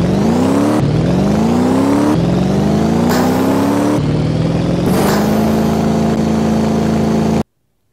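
Drag race car engine in the DragRacer iPhone game, revving loud and close in repeated rising pulls, each climbing in pitch before a sharp shift, about five surges back to back with no talk, ending abruptly.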